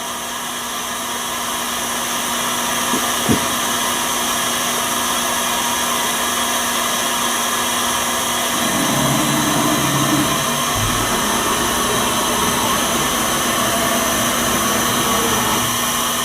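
A Campbell 750 CNC fixed-rail vertical universal grinder runs a grinding pass, producing a loud, steady whining drone with a constant tonal hum that shifts slightly partway through.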